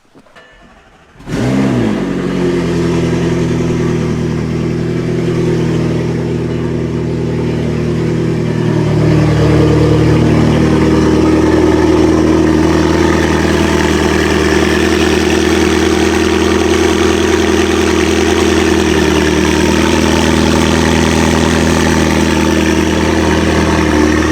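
A neglected, dusty car engine cranks and catches after a quiet moment, then settles into a steady, loud idle that runs on with a slight rise in revs, close to the microphone.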